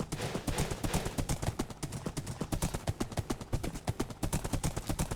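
Video game horse hooves clip-clop in a quick, steady rhythm, fairly close and moderately quiet, with no other sounds.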